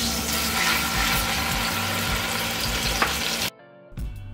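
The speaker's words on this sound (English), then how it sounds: "Ah, the sweet sound of browning" Short ribs sizzle and brown in hot oil in a Dutch oven, a steady loud frying crackle that runs without a break for about three and a half seconds and then cuts out to near silence, followed by a brief faint return.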